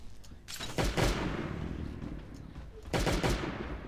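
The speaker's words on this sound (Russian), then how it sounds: "Еще пару выстрелов." Gunshots in the survival video game Last Day On Earth Survival, a few sharp bursts of fire separated by a pause, moderately loud against a muffled background.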